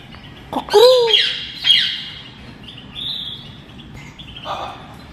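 Loud, shrill bird squawks and calls, a couple of sharp bursts followed by fainter chirps over a constant background hum.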